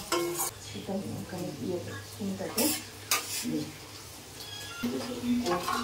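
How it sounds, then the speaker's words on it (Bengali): Beans and carrots with whole garam masala are stirred in a pot, producing clinks and scrapes of a spoon against metal over a faint sizzle, with a person speaking nearby at moderate volume. "এই যে আমি একটু নাড়ছি, বাকিটা করব। বিনস, গাজর, সাথে গরম মশলা গোটা দিয়ে দিয়েছি।"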